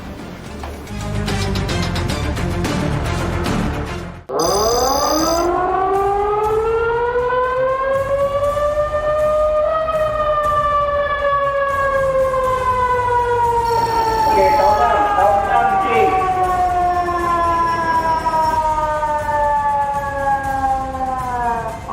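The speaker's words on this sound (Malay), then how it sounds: "Jadi bolehlah terus aktifkan sistem siren" A civil defense tsunami warning siren sounds during a drill, loud and wailing as it rises and then slowly falls, broken by a brief dropout and accompanied by faint electronic tones.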